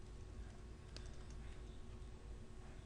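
Steady typing on a computer keyboard while entering Visual Basic code, soft continuous key clicks at an even pace over a low background hum.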